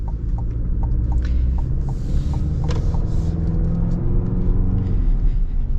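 A 2024 Chevy Colorado ZR2 pickup truck drives with a steady, loud engine and road rumble throughout, with faint creaks and rattles over the top.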